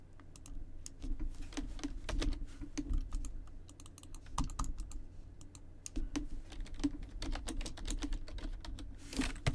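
Rapid typing on a computer keyboard, dense bursts of clicky keystrokes with brief pauses, close and steady for the whole stretch.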